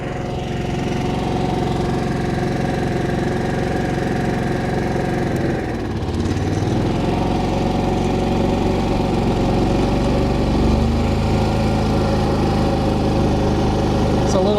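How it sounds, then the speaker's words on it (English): The largest Harbor Freight Predator generator runs loudly and steadily nearby while powering an HVAC system, its engine note dipping briefly and then recovering with a heavier drone as load comes on, and someone talks over it. "I should be ready to flip on the breaker for the generator here."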